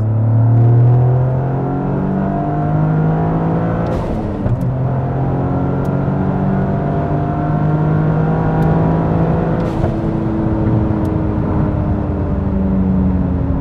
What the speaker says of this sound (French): on va justement pouvoir faire un petit pull en 3 ici, à 4000 tours comme ça